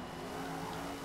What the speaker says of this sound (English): That Cobra is so loud.